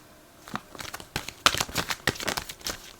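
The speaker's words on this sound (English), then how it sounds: "I don't want to see the cards, maybe shuffling like that." Tarot cards being shuffled by hand, a quick series of crisp riffling and flicking bursts, close and fairly quiet, with no talking.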